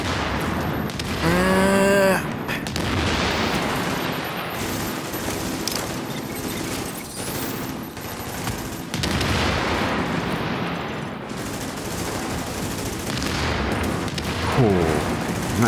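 Sniper fire during a co-op firefight in the video game The Division: sharp cracks and bursts of shots amid a dense, busy battle mix, with shouts and other game sounds layered throughout.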